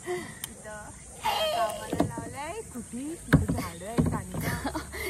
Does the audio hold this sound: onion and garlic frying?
no